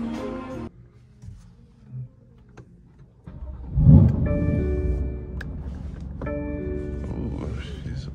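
A black BMW F80 M3 Competition starts off and pulls away, its engine rising to a rumbling rev and then settling into a steady mid-pitched drone, close, with brief talk at the start.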